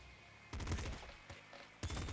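Sniper gunfire in the Nuclear Throne video game: three sharp, loud bursts of crackling shots spaced apart, each trailing a short noisy rattle, over a faint steady hum.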